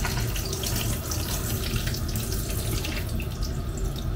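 Meat being rinsed under cold running tap water, a steady close, loud gush of water splashing without pause and with no talking.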